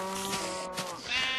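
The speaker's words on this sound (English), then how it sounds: "Kill the sheep now." Sheep bleating in Minecraft, a single steady wavering bleat that fills the moment, loud and close, with no voices over it.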